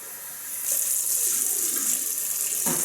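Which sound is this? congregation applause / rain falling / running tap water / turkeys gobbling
running tap water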